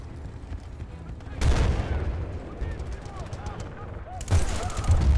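Gunfire in the online shooter Battlefield Bad Company 2, a dense mix of sharp shots and bursts, with two heavy close blasts standing out over a steady crackle of distant fire.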